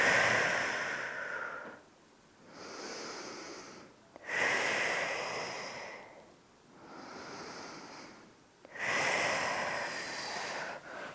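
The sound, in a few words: deep breathing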